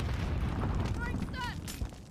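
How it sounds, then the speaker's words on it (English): A stun grenade goes off in a tactical shooter game, a short muffled boom and crack, fairly faint, with players talking over it. "Stun grenade."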